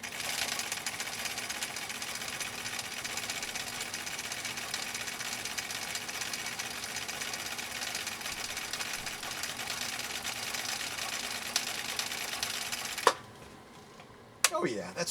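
A 1962 Husqvarna Viking Type 21E sews a decorative stitch through commercial canvas with size 89 upholstery thread, a steady, fast mechanical whir running for a long stretch before stopping abruptly, with a voice nearby.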